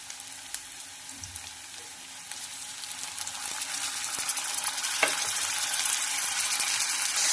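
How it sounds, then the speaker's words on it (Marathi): Tomatoes fry with already browned onions in a pan for a Marathi capsicum curry, giving a hissing sizzle that grows gradually louder. Scattered small clicks and taps from stirring are heard along the way. "तर इथे मी टोमॅटो घालून घातलेला आहे याला छानपैकी असं फ्राय करायचं आहे"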